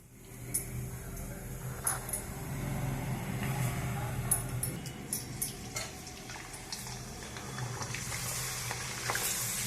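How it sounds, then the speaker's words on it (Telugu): Jowar flour papad fries in hot oil with a continuous soft sizzle and bubbling, punctuated by small crackles and occasional stirring clicks, close up and fairly quiet. "ఇప్పుడు వేయించుకుందాం"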